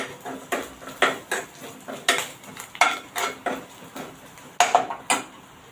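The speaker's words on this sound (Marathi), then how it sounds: "धनापूड घालत आहे मी याच्यामध्ये आता आपण हे मिक्स करून घेऊया" Spices with red chilli powder and coriander powder mixed in a pan for potato bread-roll filling: a brisk, rhythmic series of spoon clinks and scrapes against metal, close and clear, with no talk.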